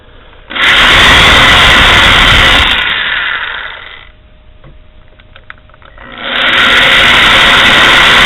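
A power tool chamfers threaded bolt holes in metal, whirring loudly and close in two long runs with a quieter spin-down gap between them.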